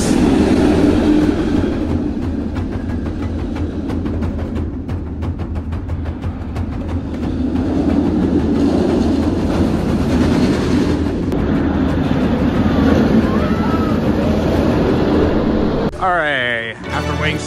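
The Kumba roller coaster train at Busch Gardens Tampa rumbles steadily along its track, a loud continuous roar with rattling, and voices faintly mixed in.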